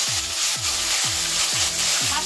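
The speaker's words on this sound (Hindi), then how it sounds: "ये करने के बाद ना इसको हम लोग डीप फ्राई कर देंगे." Marinated pomfret fish, coated with garlic, red chilli, salt, ginger and turmeric, frying in hot oil, a steady loud sizzle with regular soft stirring or scraping strokes about twice a second, no talking.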